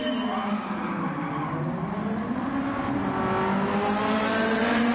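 A Honda Civic engine in Gran Turismo 7 screams at high revs, held in first gear and over-revving continuously, loud and steady with rising and falling harmonic whine, no talk.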